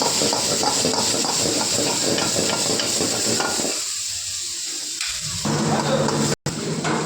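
Onion, tomato and green chilli fry in a pan for fish biryani, a loud continuous sizzle with stirring that briefly quiets before the hiss returns.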